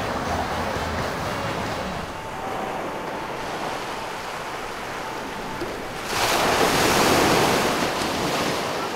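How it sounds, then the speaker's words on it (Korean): Ocean waves breaking at Gwangalli beach, a continuous low surf wash with wind noise on the microphone, swelling into a louder, hissing crash of surf in the later part. "아, 바다 소리 좋네."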